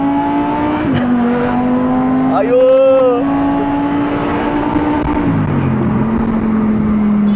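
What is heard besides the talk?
Lamborghini engine revving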